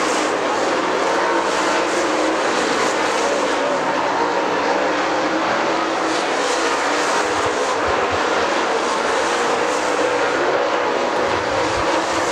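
Super late model race cars practice at Dixie Speedway, a continuous loud roar of engines passing, broad and steady from start to end with no pause.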